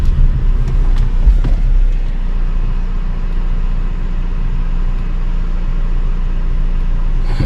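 A Jeep Compass engine idles steadily with a low, continuous rumble that stays even throughout, with a few faint clicks near the start and no talking.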